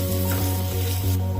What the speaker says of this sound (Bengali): এই পেঁয়াজটার সাথে ফ্রাই করে নেব